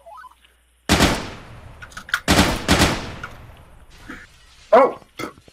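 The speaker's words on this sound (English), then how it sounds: "I got sniped by a guy inside with a fucking pistol." Pistol shots crack in a video game shootout, two loud close bursts followed by sparser, sharper reports with short gaps between them.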